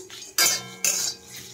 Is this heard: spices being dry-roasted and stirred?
yes